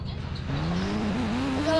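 A motorbike engine in a mobile open-world game revs and climbs steadily in pitch, loud and continuous, with game audio and faint voice underneath.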